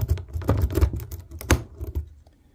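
A lock pick rake card raking a lock in a quick kinetic rip, a rapid series of metallic clicks and scrapes close up, fading out at the end with no talk.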